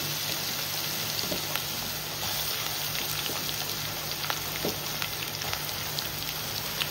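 Chopped onions frying in a pan for an Indian-style crab masala, giving a steady, dense crackling sizzle that runs evenly throughout with no voices.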